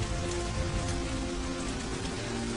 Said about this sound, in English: It's bad luck that we should have rain today.